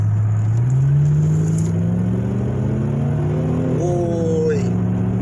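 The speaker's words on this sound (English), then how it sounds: "We want to hear the engine now from inside how it sound." Engine of a 2003 Lincoln Town Car after a muffler delete, heard from inside the cabin: a loud, deep, continuous drone that slowly rises in pitch as it revs, then drops back, with no talking.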